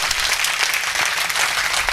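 Sustained audience applause fills a Hindi heroic-verse poetry gathering, a dense, steady wash of many hands clapping at once with no break.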